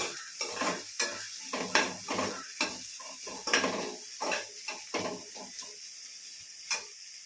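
A spatula scrapes and stirs onions and tomatoes for poha repeatedly in a pan over a soft, steady sizzle, the clacks coming in an irregular rhythm with no voices.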